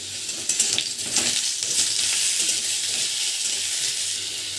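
Potato pieces and eggplant sizzle steadily in hot mustard oil in a pan, a loud, continuous frying hiss with occasional stirring clatter throughout.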